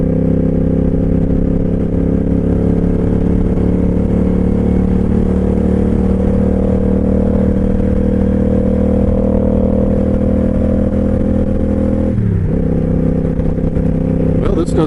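A motorcycle rides onto an expressway, its engine a loud, steady droning hum with wind rush that shifts briefly near the end as the rider changes speed.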